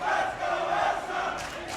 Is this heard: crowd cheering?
yes